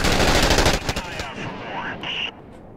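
Heavy gunfire in the Iraq war shooter Six Days in Fallujah: a loud, dense volley of shots that fades into a rumbling echo, with a brief high tone near the end.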